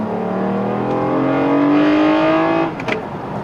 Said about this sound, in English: you heard it revving a little bit, definitely a lot more throaty than stock